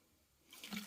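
Liquid poured into a bucket of a homemade fertilizer mixture for planting tomatoes and peppers, a brief splashing pour rising over a second, fairly close and moderately loud.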